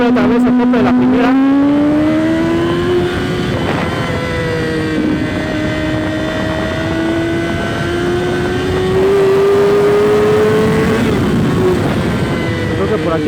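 A Yamaha R1 motorcycle engine screams upward in first gear, its pitch climbing steadily to the rev limiter, loud and close with heavy wind buffeting over the rider's microphone.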